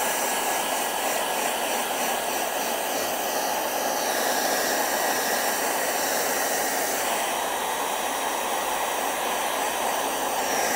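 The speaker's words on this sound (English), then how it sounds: "Quick, hair dryer." A hair dryer blows steadily over a freshly painted beach-scene painting, a loud, continuous broadband whoosh with a faint high whine, running unbroken for about eleven seconds with no talking.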